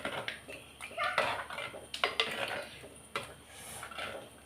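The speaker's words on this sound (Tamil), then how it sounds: "அதனால் நம்ம கிளறி விட்டுக்கிட்டே இருக்கணும், இல்லைன்னா அடி பிடிச்சிடும்." A spoon scrapes and clinks around a pot of lentil sambar with bitter gourd, giving a run of irregular metallic stirring knocks, close and moderately loud, with no talking.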